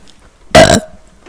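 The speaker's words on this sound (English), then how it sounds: "Yeah. Burps." A single loud, abrupt burp lasting about a quarter second, harsh and close, standing alone against a quiet background.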